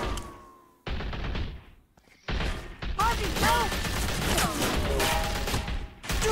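Gunfire in The Walking Dead video game, loud bursts of shooting and impacts between brief pauses, with game sounds and voices mixed in.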